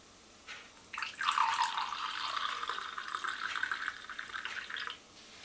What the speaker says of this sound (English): Pouring some milk.